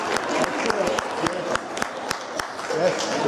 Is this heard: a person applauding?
yes